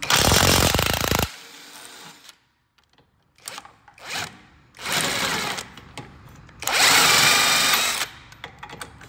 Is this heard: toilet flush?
no